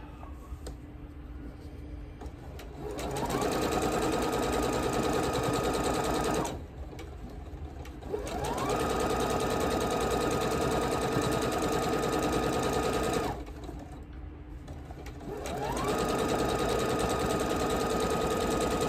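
A sewing machine stitches the center seam of a quilt block, running in three sustained bursts of steady whirring separated by brief pauses, loud and close with no talking.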